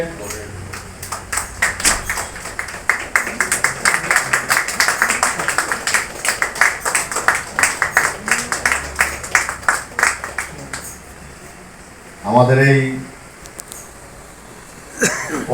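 An audience at a company branch office opening in Diamond Harbour claps together in a fast, loud burst of applause that fades out. A voice speaks near the end.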